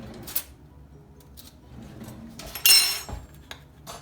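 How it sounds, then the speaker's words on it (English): Kitchen drawer pulled open with a clatter of spoons and cutlery, a few soft knocks, then a sharp metallic rattle and thud partway through, close and fairly quiet. "let's get some spoon out for you"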